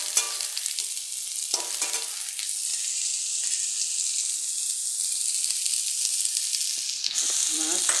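Pieces of pona fish hit a frying pan of sautéed greens and green chillies, setting off a steady, loud oil sizzle and hiss that continues unbroken, with occasional faint stirring.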